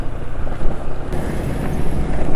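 Motorcycle engine running at high RPM on Lupromax 4T 10W40 oil, a steady, continuous loud drone close to the microphone with some wind noise, no talking.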